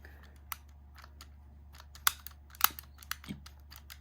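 Sparse small metallic clicks and snaps from a revolver mechanism whose cylinder fails to rotate clockwise, a handful of sharp ticks scattered over a quiet low hum.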